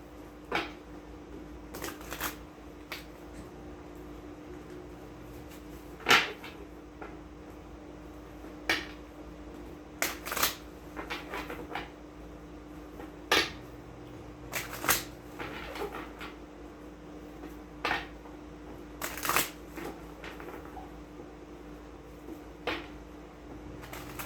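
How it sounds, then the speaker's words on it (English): Tarot cards are shuffled intermittently up close, with soft riffling bursts and slaps spread out over a quiet background. "So now let me just shuffle these a couple more times"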